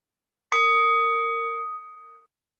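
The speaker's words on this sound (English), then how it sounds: "as the bell goes on one more time" A single meditation bell struck once, a clear ringing tone with steady harmonics that sustains and slowly fades over nearly two seconds in a quiet room.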